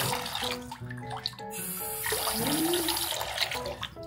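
Water runs from a tap in a hotel room in Miryang, a steady wash under other shifting tones and some background noise, with no voices over it.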